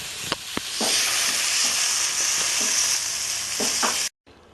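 Chana (chickpea) greens stir-fry in a pan with a steady, close sizzle, broken by a few sharp spatula clicks and scrapes, before the sound cuts off abruptly near the end.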